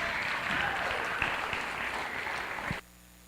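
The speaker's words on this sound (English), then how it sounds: "one more round of applause for the beginners" A crowd at a county 4-H show applauds young beginner showmen, a steady wash of clapping that carries on evenly and then cuts off abruptly near the end.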